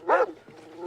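A single loud dog bark or growl close by during a tense police-style scene, followed by quieter rustling and low background noise.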